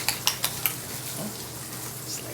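Eggs whisked fast in a pan, a quick run of four sharp metal taps at the start followed by a steady sizzling hiss of oil.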